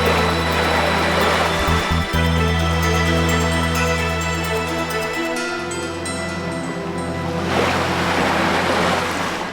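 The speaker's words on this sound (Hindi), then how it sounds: "ये तो जल की ध्वनि है।" Loud rushing, flowing water surges continuously under a sustained, droning musical tone, swelling again toward the end.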